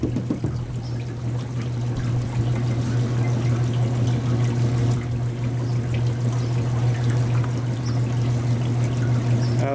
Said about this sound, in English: The water from the water bars is washing away the black sand.